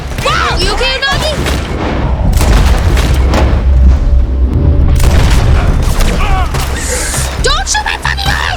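Gunfire in Red Dead Redemption II cracks and booms loudly and nearly continuously through heavy game noise, while people talk and shout over it.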